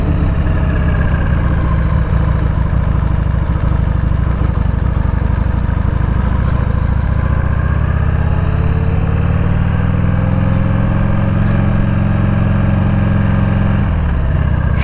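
A 1998 Harley-Davidson Sportster 883 motorcycle ridden around a cemetery, its engine producing a loud, continuous, close rumble that shifts slightly in pitch as the bike moves.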